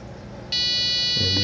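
A Robo-Tank auto top off controller gives a sustained high electronic beep that starts partway through and holds steady to the end. A low steady hum sits underneath.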